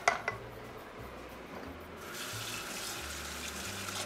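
Water runs from a tap into a pot while weekly lunch-box meals are being cooked, a steady faint flowing hiss after a couple of sharp kitchen clinks, with a low hum underneath.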